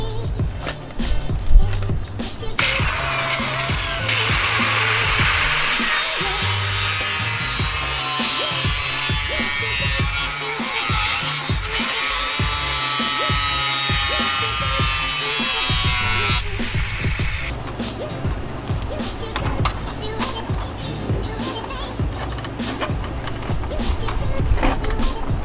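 A power tool trims a triple gauge pillar mount for AEM gauges, giving a steady, harsh, high-pitched cutting whir for about twelve seconds in the middle, with softer handling noises before and after.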